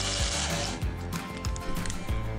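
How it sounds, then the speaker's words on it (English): Battery drill whirring close by, driving a center punch, with a steady motor drone and a few rhythmic clicks and knocks. "So I put it in the battery drill,"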